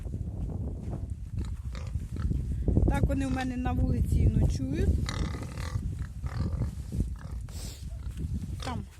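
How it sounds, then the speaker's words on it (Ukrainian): Healthy pigs on a farm grunt and snuffle nearby in a loose series of low grunts and one squealing call, while someone talks over them. "Зараз я прийшла до своїх здорових свиней."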